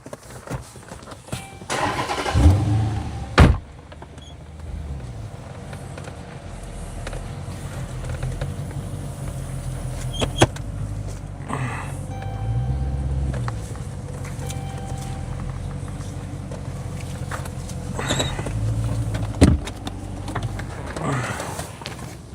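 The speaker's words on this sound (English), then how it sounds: "I move this car over, chat." A car is started and idles as it is moved a short distance during a home brake job, with door clunks and engine rumble close by and a voice talking over it.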